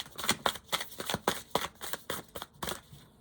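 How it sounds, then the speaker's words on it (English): A deck of tarot cards shuffled repeatedly, with a rhythmic series of about ten crisp riffling bursts close up, each sharp and bright, spaced roughly a third of a second apart. "I'm going to shuffle one more time."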